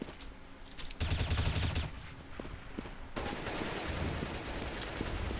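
Rapid automatic gunfire bursts out in a Counter-Strike match on the Inferno map, with sustained rattling volleys and scattered shots at moderate distance and no talk over them.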